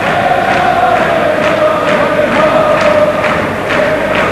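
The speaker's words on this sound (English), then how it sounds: "great shouts from the crowd" A crowd at a boxing match in a packed stadium hall roars steadily, the dense, loud wash of shouting broken by a few sharper bursts and thuds.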